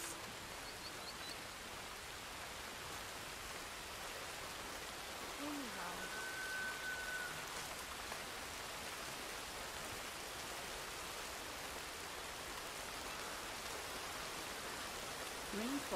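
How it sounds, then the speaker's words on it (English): Steady rain falling in Red Dead Redemption 2 around Wapiti, a constant even hiss of drops filling the whole stretch, with only faint brief tones beneath and no speech. "The rain will help settle the dust."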